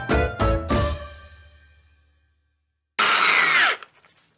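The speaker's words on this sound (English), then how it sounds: "I bought an 80 grit. It's a nylon abrasive wheel." An 80 grit nylon abrasive wheel on a power tool spins up in a few short whirring bursts that wind down, then after a pause gives one loud, close, harsh grinding burst under a second.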